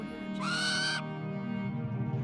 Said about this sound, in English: It's an enchanted owl from Mage Academy.